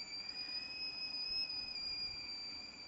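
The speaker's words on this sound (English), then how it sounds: "Here's the kettle boiling." Whistling kettle coming to the boil, a steady high-pitched whistle holding one tone for the whole stretch over a soft hiss of boiling water, loud and close.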